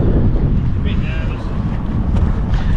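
Strong coastal wind buffets the microphone on the shore between Busselton and Dunsborough, a loud steady roar with rumbling gusts and no break across the whole stretch.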